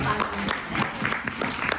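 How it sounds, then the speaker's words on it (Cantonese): Audience applause breaks out in a short, steady burst of clapping, with a voice talking over it. "俾啲掌聲好唔好啊？"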